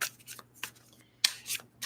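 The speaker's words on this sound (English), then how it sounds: "as I'm shuffling my cards here" Tarot cards are shuffled by hand in several quick riffling bursts, crisp papery swishes separated by short pauses, close and fairly quiet.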